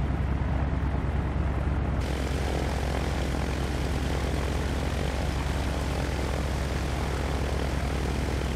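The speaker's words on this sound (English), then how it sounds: "Let's watch the planes land." A steady propeller aircraft engine drones without pause, loud and unchanging throughout, as planes land at Sun 'n Fun in Microsoft Flight Simulator X.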